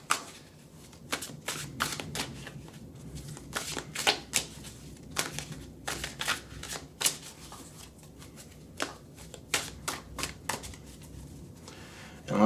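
Cards are shuffled repeatedly in quick, crisp riffling bursts, close and fairly quiet, with short pauses between each round.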